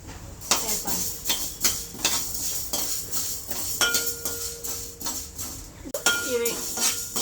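Coriander seeds dry-roasting in a pan on the stove, stirred with a metal spoon that scrapes and clinks against the pan in repeated close strokes, with small rattles of seeds between them.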